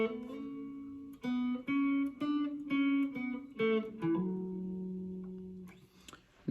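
Guitar playing a single-note lick from a solo: a short melodic phrase of plucked notes with hammer-ons and slides, quiet and close, ending in a sustained held note with no talking.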